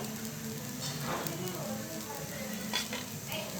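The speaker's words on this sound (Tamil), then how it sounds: "இது கொஞ்சம் வெந்து வரட்டும் தோசை வெந்து வந்துருச்சு" A dosa fries in oil on a pan, giving a continuous soft sizzle close up with faint scraping and stirring touches and no speech.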